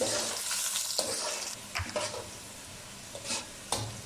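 Onions frying in oil in a large pan, a continuous bright sizzle punctuated by a few utensil knocks and stirring scrapes.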